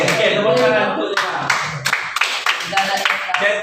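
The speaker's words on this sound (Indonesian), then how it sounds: "tepuk tangan untuk dia." A classroom of Form 2 students claps for a classmate in a lesson, a brisk burst of hand claps with voices mixed in.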